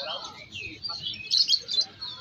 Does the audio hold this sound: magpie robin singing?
yes